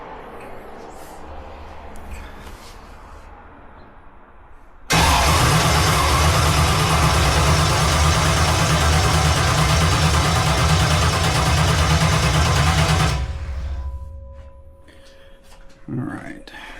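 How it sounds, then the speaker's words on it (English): A jet boat engine with a mechanical fuel pump is cranked over by the starter in one loud, continuous burst of about eight seconds, with quieter background noise before and after. "See if I gotta motor it over for some fuel pressure first"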